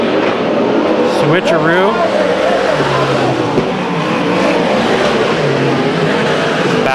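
Race cars roar around the short oval at Chowchilla Speedway during heat races, engines droning loudly and steadily with a pass sweeping through, heard under continuous commentary.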